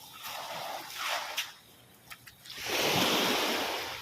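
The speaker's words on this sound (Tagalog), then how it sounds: "Lakas ng alon." Strong ocean waves on a beach shore: several surges wash in and recede, with a brief lull, then a loud, broad crash of surf building in the second half, with wind rumble underneath.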